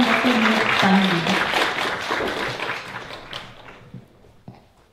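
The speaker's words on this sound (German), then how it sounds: "Einen Applaus bitte für den Dr." Audience applause at an evening lecture on the NSU complex, loud and dense at first, then thinning into scattered claps that fade away by the end.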